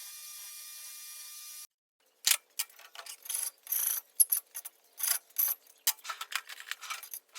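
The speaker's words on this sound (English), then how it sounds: "Just deburring it, taking off the burrs from the milling cut" Short, sharp rasping strokes come one after another as burrs are taken off a milled metal part for a 1970 Nova pedal box, close and crisp after a brief steady hum and a moment of silence.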